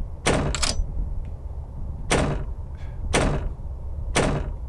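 A door in the video game Gon Oni opening and closing repeatedly, with four sharp thuds spaced about a second apart, loud and close with no speech.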